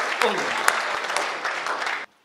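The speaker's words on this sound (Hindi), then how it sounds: "जोरदार तालियां" Enthusiastic applause from a Hindi comic poetry gathering audience, a dense burst of clapping with a few sharp peaks, briefly mixed with voices, then cut off abruptly into near silence.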